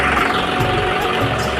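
A new tractor fitted with a loader kit idles steadily close by, its engine giving a continuous low rumble with a faint rough knock and no break over the whole short stretch.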